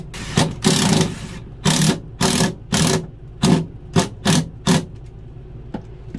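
Power driver driving screws into an aluminum panel during an RV refrigerator cooling unit replacement, heard as about eight close, loud bursts of whirring and grinding, each under a second, separated by short pauses.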